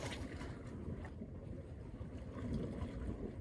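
Strong wind buffets a small fishing boat at sea off Ko Si Chang, giving a continuous low rumble of wind noise with gusty swells and some water sounds, with no speech.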